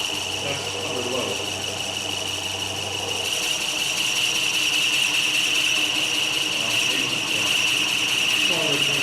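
A wood lathe turns a honey pot at about 350 RPM under load, a steady close motor hum with a high whine, while someone talks over it.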